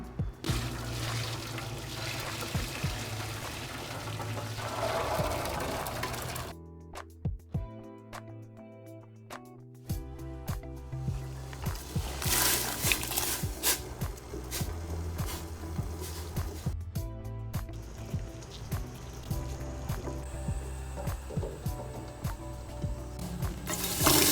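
Cooking water is poured out of a pot after boiling beans for tempeh, a steady rushing splash with a brief pause partway through.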